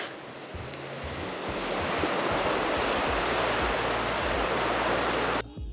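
Steady, loud rush of sea waves breaking on the Côte d'Azur shore, a continuous broadband wash that swells slightly and holds, with faint low rumbles beneath and no talking.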